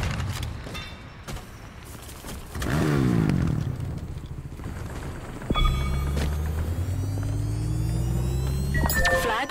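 Vehicle engine in Halo Infinite Big Team Battle capture-the-flag multiplayer, a steady droning rumble with rising pitch after a loud onset midway, alongside game clatter and effects.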